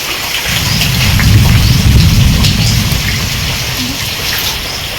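Heavy monsoon rain pours down in a loud, steady roar, with a low rumbling swell through the middle and no voices.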